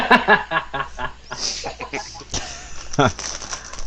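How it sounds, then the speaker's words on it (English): Chicken-like clucking bird calls play as ambience during a Dungeons & Dragons tabletop game session, coming in short repeated bursts with voices talking over and between them. "You hear some birds as you get out and away from the cavern."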